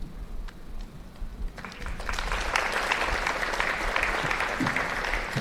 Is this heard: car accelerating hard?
no